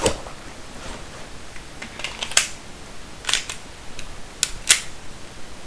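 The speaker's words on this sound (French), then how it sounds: "Le Glock 18, je vais vous remontrer vite fait comment il tire" A Glock 18 airsoft pistol dry-fired with no BBs loaded, giving a few sharp, dry mechanical clicks spaced irregularly, close and fairly crisp over a quiet room background, with no voices.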